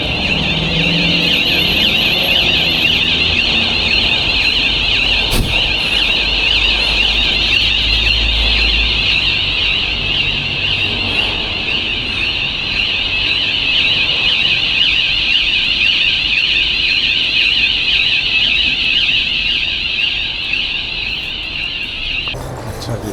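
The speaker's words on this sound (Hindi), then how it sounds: "पहले तो अलार्म बजना शुरू हो गया था" An alarm rings during a courier delivery, a loud, steady, piercing tone that holds without a break for over twenty seconds over low background rumble.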